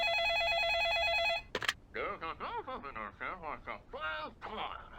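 A telephone in The Feeble Files adventure game rings with a bright electronic warble for about a second and a half, then stops as a character starts speaking.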